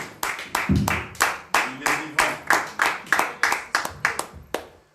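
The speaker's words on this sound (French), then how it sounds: "Applaudissons pour l'évangile" Congregation at a church service clapping in a steady rhythmic beat, about three claps per second, sharp and fairly close, with a faint voice underneath near the start.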